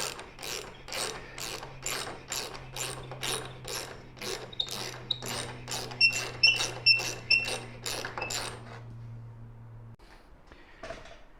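A ratchet tightening a bolt into a T-nut, a fast regular clicking of about a dozen strokes over nine seconds, close and fairly loud, then stopping before a few faint knocks.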